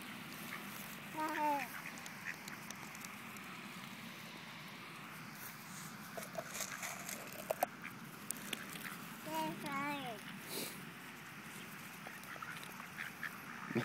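Ducks quack in short bursts while being fed Cheerios, calling in clusters at irregular moments over quiet outdoor background. Other soft sounds come and go between the calls.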